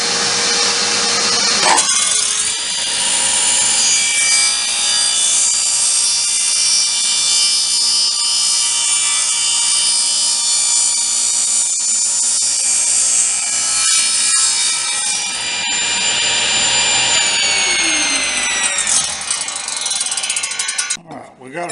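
Power saw cutting a slot in a glued-up wooden block for a DIY depth gauge, a loud, sustained high-pitched whine with a tonal ring for most of the clip, winding down near the end.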